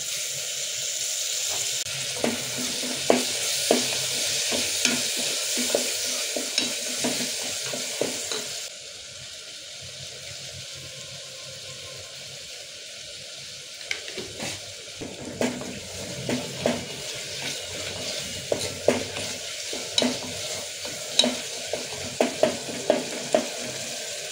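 Tomato pieces go into a hot frying pan and are stirred, a steady sizzle running throughout while a spatula scrapes and taps the pan in irregular strokes, close up, with no voices.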